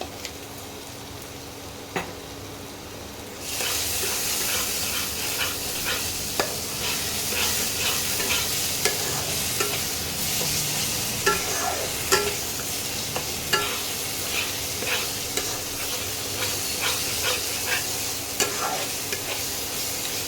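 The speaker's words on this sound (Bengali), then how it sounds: "মশলাগুলো একটু ভাজা ভাজা হোক তারপরে টক দইটা দেবো" Spices for Benarasi mutton fry in a pan: after a quiet start, a strong sizzle suddenly rises and continues, punctuated by frequent close spatula scrapes and knocks, with no voices.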